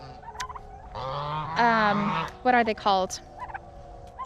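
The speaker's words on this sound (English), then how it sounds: "We have 3 female bantam hens." Bantam hens clucking and squawking close by in a backyard coop, a few bursts of rising, rapid calls, with a brief spoken question mixed in.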